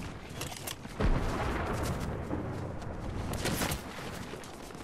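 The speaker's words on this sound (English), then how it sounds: "Oh, they shooting at me." Gunfire in a shooting video game, a run of sharp cracks and booming shots at moderate distance with a heavier blast near the start, layered over a continuous rumble of game noise.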